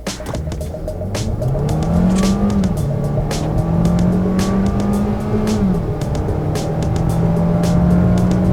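2021 Kia Seltos in sport mode accelerating hard from 0 to 60, engine note rising in pitch through gear changes, loud and close inside the cabin, with tire and road noise underneath.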